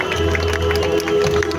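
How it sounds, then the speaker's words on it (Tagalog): A crowd at a Marian religious procession in Malolos gives a dense, even wash of clapping and murmur, steady throughout with no breaks, heard from within the gathering, a loud public-address hum running underneath. "Ating palakpakan ang ina ng Malolos, Birhen Immaculada Concepcion."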